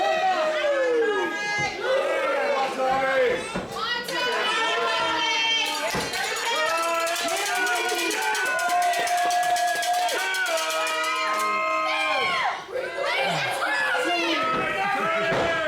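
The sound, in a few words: wrestling crowd cheering and booing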